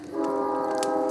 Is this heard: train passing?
yes